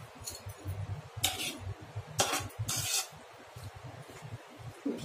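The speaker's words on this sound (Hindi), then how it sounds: "अच्छे से चावल पूरे अच्छे से मिक्स कर लेना इसको।" Half-cooked rice for Andhra mutton biryani being mixed in a pot, with scraping spoon strokes, soft clinks and hissing steam in an uneven rhythm, close up with no voices.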